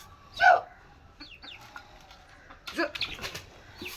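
A chicken clucks loudly up close in a sharp burst, followed by a few quieter clucks and squawks. A voice speaks in between against faint farmyard noise.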